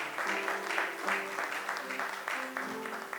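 A church audience acclaiming the Lord with applause and cheers, steady clapping mixed with voices and a sustained cry rising over the crowd.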